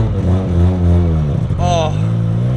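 A Mazda RX7 rotary engine hums steadily while driving, its drone carrying up and down in pitch with a brief rising rev, with someone talking over it throughout.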